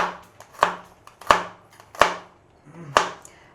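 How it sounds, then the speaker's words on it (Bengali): Garlic chopped with a knife on a board: four sharp, distinct knife strikes spaced unevenly about once every half-second to second, close and clear with no voices. "এবার রসুনটা কুচিয়ে নেব,"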